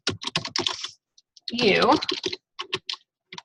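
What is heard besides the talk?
typing on a computer keyboard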